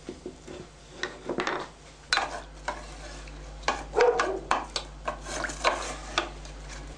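Diced bacon fries in a pan, giving intermittent crackles and sizzles broken up by scraping and stirring against the pan, fairly close and with no voices.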